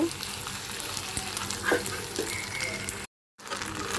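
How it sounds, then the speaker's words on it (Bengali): Pasta stirred with spices in a hot pan: a steady sizzle with scraping stirring strokes, close by, briefly cutting to silence near the end before resuming. "আমি পাস্তাগুলো দিয়ে মশলাগুলো ভালো মতো এখন মিশিয়ে নেব"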